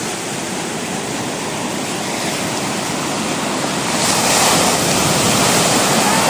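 Wild sea waves surge and break at Cable Bay near Nelson, a loud, continuous roar of surf mixed with wind rush that swells higher toward the end, with no voices over it.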